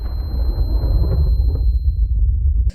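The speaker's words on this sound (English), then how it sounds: "causing the whole machine to blow up in a nuclear explosion" Nuclear furnace explosion in the Minecraft Alex's Caves mod, a loud, sustained low rumbling roar that fills the mix for nearly three seconds and then cuts off abruptly.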